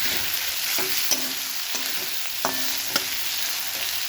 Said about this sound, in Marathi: छान असं हे परतून घ्यायचं आहे